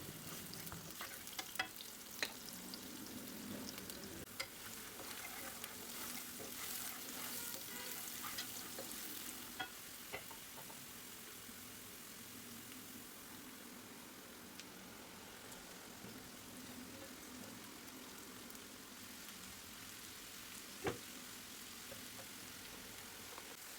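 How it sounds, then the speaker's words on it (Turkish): Steady sizzling and crackling of dried onions frying in hot oil over high heat, with occasional soft stirring scrapes, continuous and fairly quiet throughout. "Yüksek ateşte birazcık kavuruyorum"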